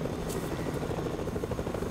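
A helicopter in the Fortnite video game, its rotor chopping steadily and fairly loud with no pauses, heard alone without talk.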